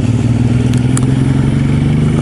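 A 2015 Suzuki M109R Boulevard cruiser motorcycle engine while riding, a steady loud low rumbling drone with continuous throbbing and wind noise, no talk.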